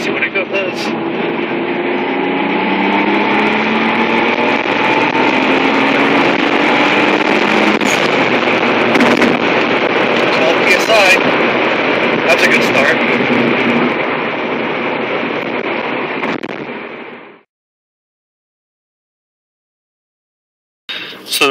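A 1994 Mitsubishi 3000GT VR-4 with a 15G turbo build pulls hard under boost. Its loud, steady engine roar holds for about seventeen seconds, then cuts off abruptly into silence.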